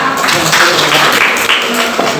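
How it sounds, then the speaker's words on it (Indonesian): A school class applauds together in a short, dense burst of clapping that stays steady for about two seconds, fairly loud and close. "Nah, tepuk tangan untuk kita semua."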